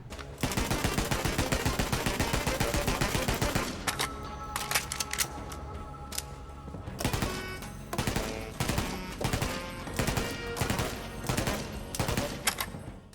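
In Borderlands 3, the Digby Smooth Tube assault rifle fires in rapid bursts that sound like music, a fast string of shots followed by choppier, rhythmic volleys with short gaps.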